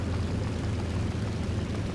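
A bomber drops bombs on a base in the War Thunder video game, a continuous loud low rumbling roar of explosions with no talk over it.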